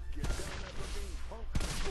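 Gunfire in the block-building shooter game Block N Load, with several sharp shot bursts scattered through a busy game mix, the loudest burst arriving near the end.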